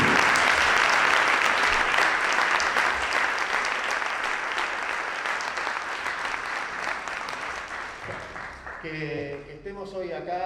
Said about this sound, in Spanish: yo quiero volver a pedirle un gran aplauso a Inés y un gran aplauso también para el Chino Antelo